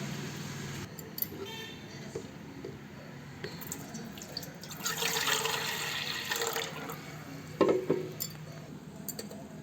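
Water runs and splashes into a metal pot of rice for several seconds, with faint clinks of utensils in the background.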